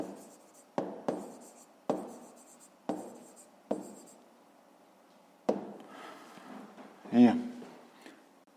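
Pen strokes on paper while writing out the answer to a fifth-grade maths exercise, a series of short scratchy bursts in an irregular rhythm, close and clear, with a voice speaking over part of it.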